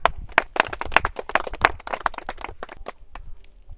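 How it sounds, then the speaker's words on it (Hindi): Audience clapping at a Jan Suraaj camp in Mujara village, Ramnagar, West Champaran, Bihar: a dense burst of hand claps near and loud that thins out and fades within a few seconds. "ताली बजाइए।"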